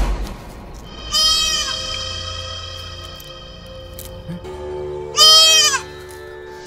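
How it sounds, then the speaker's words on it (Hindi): A goat bleats twice, each call a loud, wavering cry lasting about half a second, separated by a few seconds of quieter background, in a Bhojpuri film scene. "ये बकरी बन गई हैं"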